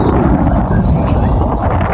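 Low, rumbling wind buffets the microphone continuously at a campsite, a dense roar with no clear gaps.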